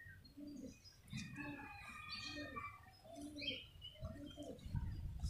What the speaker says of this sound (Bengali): খুবই ভালো মানের ম্যাটরাজ পায়রা, বাড়ির ম্যাটরাজ